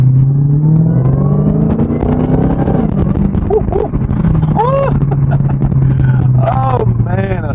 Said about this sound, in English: Boy, I like that supercharger sound.